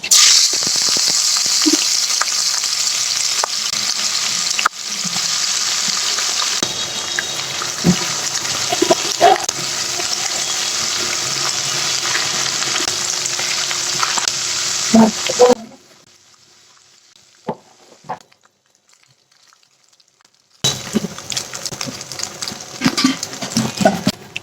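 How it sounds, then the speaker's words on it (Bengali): Washed dried fish (shutki) fries in a pan with a loud, steady, hissing sizzle for about fifteen seconds, then falls almost silent for several seconds before the sizzling picks up again near the end. "আমি ধুয়ে রাখা শুটকিটা দিয়ে দিব।"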